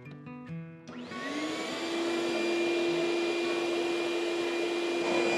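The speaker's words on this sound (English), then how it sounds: "let's try the vacuum cleaner." A vacuum cleaner powered by an EcoFlow Delta Pro Ultra power station starts after a few short tones, then settles into a loud, steady motor whine with a constant rushing airflow.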